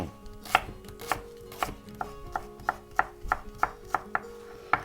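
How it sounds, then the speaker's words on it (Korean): A kitchen knife thinly slices vegetables for mild Pyongyang naengmyeon kimchi, giving about a dozen crisp, close chops on a board. The strokes start spaced apart and quicken into a steady rhythm, with no talk. "얘네들은요 그냥 작으니까 칼로 그냥 할게요. 얇게 해가지고 얇게 써셔가지고"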